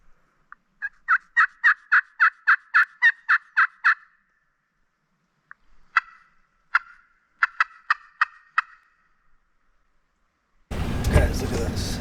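Wild turkey gobbling outdoors near a South Dakota campground, two bursts of rapid rattling calls, the first long and steady, the second shorter and broken, fairly close and loud, then fading before a sudden rush of noise.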